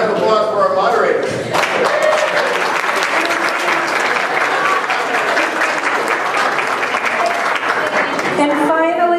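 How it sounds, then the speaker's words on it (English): Loud, sustained clapping from an audience at a candidate forum, honoring the moderator, with voices audible beneath the steady applause. "And a round of applause for our moderator."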